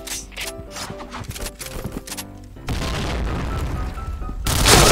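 A grenade explodes in the video game Point Blank: a few sharp shots and clicks give way to a heavy, sustained rumbling blast that swells louder again at the end.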